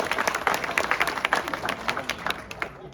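Crowd clapping at an outdoor ceremony opening sewer work in a residential colony, fairly loud with uneven, scattered claps and a few voices mixed in.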